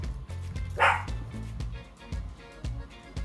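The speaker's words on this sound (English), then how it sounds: "There's someone out in the hallway, and that's what she's barking at." An indoor dog barks at someone out in the hallway, giving one loud, sharp bark near the mic and then several softer, repeated low woofs and thumps.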